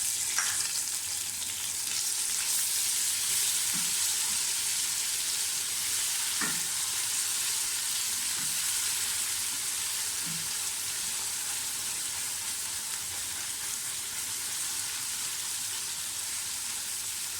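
Onions sizzle and crackle steadily in a hot pan, with occasional soft stirring scrapes and no talking.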